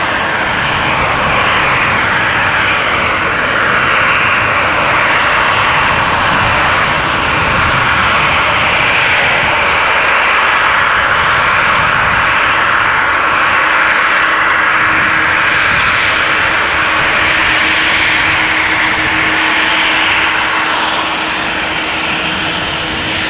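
KLM Embraer E2 jet departing Amsterdam Schiphol for Geneva, a loud, continuous, close engine roar holding steady throughout, with a thin whining tone emerging in the second half.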